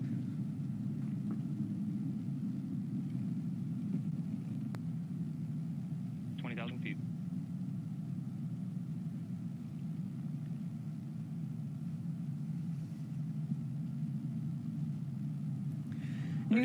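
A New Shepard rocket climbing past max Q as its BE-3 engine throttles back up to full power: a steady, unbroken low rumble holds at an even level throughout, heard at a distance.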